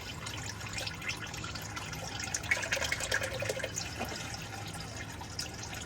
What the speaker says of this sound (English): Dump that oil into the pan as it continues to drain